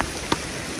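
Continuous heavy rain near a fort, a steady dense hiss of downpour with a single brief tap partway through.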